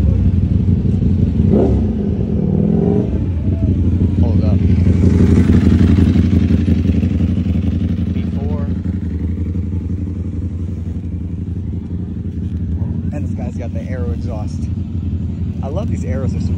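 A Ducati motorcycle with a full aftermarket Akrapovic exhaust system rumbles loudly nearby at a bike meet, with a deep steady engine drone and occasional revs, while voices talk over it.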